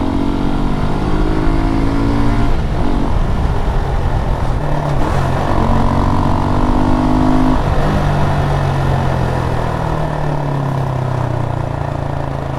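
A 2015 Suzuki Gixxer 155 motorcycle ridden on the road, heard from the rider's seat, its engine rising and falling through gear changes under steady wind rush, loud and continuous.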